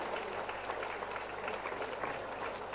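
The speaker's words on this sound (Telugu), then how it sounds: "అందరూ గట్టిగా చప్పట్లు కొట్టి వేదికపైకి వచ్చే పెద్దల్ని సగౌరవంగా, సాదరంగా వేదికపైకి ఆహ్వానించండి." Steady applause from a seated audience at a bank centenary celebration, welcoming dignitaries onto the stage; a dense, even wash of clapping from many hands continues without pause throughout.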